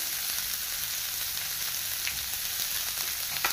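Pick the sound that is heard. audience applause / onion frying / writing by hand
onion frying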